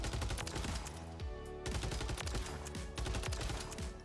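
Rapid bursts of SOA Subverter battle rifle fire in a multiplayer shooter game, loud sustained automatic volleys with brief gaps, no talking.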